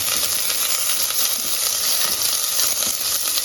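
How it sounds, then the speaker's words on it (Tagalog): Onions sauté in a hot pan for chicken adobo, giving a loud, close, continuous sizzle and hiss while they are stirred, with no voices. "So ilagay natin yung onions. Haluin ng haluin"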